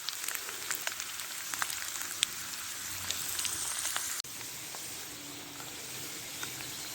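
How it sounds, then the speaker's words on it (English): Food frying in a pan at a wild camp in Scottish woodland, a continuous close sizzle and hiss with scattered crackling pops, steady and moderately loud from start to end. "we'll fry them off first"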